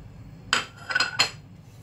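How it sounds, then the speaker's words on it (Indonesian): A metal utensil clinks against a hot wok while garlic and shallots are being sautéed, three or four bright, close metallic taps in quick irregular succession over a faint background hiss. "Kita mulai dengan menumis dulu ini bawang putih, bawang merah"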